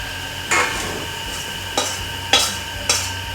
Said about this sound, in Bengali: আমরা আলুগুলো একটু হালকা করে ভেজে নিচ্ছি